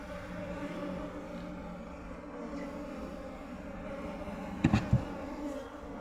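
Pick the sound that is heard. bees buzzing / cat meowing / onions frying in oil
bees buzzing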